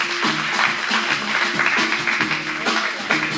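Steady clapping from an audience at a jazz club, a modest, even patter of many hands at close range that holds for a few seconds with no voices over it.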